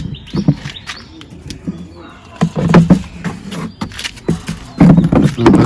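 Pigeons in a home loft, with soft coos and bird calls scattered through a busy, moderately loud mix of rustling and movement, no speech heard.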